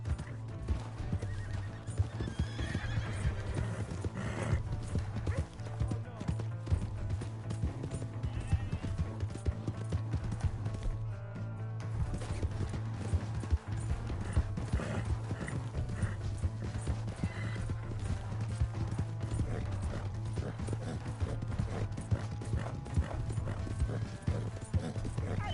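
Clip-clop of a horse galloping in Red Dead Redemption 2, steady hoofbeats running throughout with repeated whinnies and neighs over a sustained low tonal drone.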